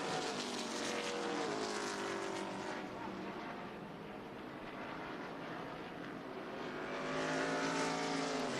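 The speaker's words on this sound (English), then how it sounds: "Todd Souza keeping that car up in the 9 degrees of banking." ARCA Menards Series West stock race cars roar around a 9-degree banked oval in a race, a dense, continuous engine drone with Doppler-shifting passes that swells again near the end; no talk.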